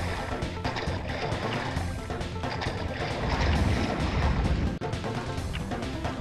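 In the Sly Cooper video game, a hovercraft roars across water with a loud, continuous engine rumble and rushing splash. The noise swells midway, then cuts out for an instant.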